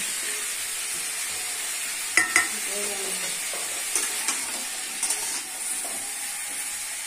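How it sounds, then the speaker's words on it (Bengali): Raw banana and potato pieces sizzle in hot oil in a pan, a steady close frying hiss with a few soft clinks and stirring scrapes of a utensil. "কলা ভাজা হয়ে গেছে"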